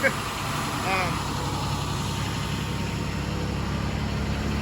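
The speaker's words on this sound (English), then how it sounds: "So it's cold enough where it's automatically high idling right now." A 2003 Blue Bird school bus with a DT466E diesel engine sits on high idle in cold weather, a steady low drone throughout with a brief voice near the start.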